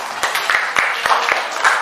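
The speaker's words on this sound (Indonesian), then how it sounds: "Ya, tepuk tangan." Classroom applause as students clap for a classmate, a quick run of sharp, uneven claps from a small group, moderately loud with faint background chatter.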